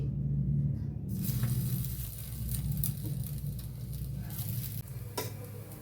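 Onion laccha paratha frying in oil in a pan, a steady, close sizzle with crackling spatter that runs the whole time and turns louder and brighter after the first second.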